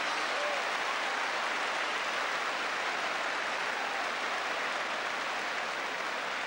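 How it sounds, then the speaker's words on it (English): Football crowd at a Stoke City versus Arsenal match breaking into sustained, dense applause, a broad continuous wash of clapping with faint voices underneath. "Great applause from the crowd."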